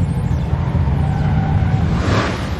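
Autocross cars run at a Moparty Mopar car event, heard as a steady engine roar with road noise from some distance, swelling briefly near the end.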